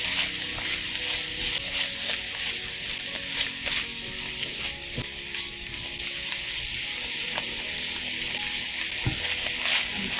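Onions and garlic sauté in a pan while being cooked down before tomatoes go in. A loud, continuous sizzle and crackle runs throughout with a few scraping stir sounds and no talk.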